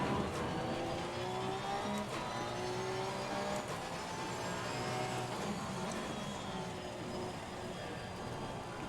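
Race car engines in Assetto Corsa Competizione at Monza during a community online race drone continuously. Several cars' tones overlap and shift in pitch as they accelerate and pass, with no speech.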